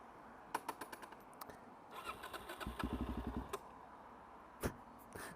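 A DRZ motorcycle engine being started: a few sharp clicks, then a rapid rhythmic cranking burst that catches briefly, followed by scattered louder pops and revs, close by with no talk.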